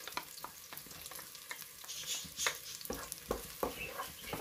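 Garlic sautés in a pan until light brown, with a quiet sizzle under repeated sharp scrapes and taps of a spatula stirring at an uneven rhythm, with no talk.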